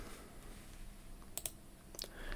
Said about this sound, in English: I like the mouse clicking.